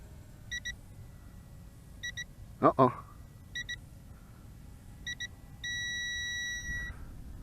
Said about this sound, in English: beeps are going off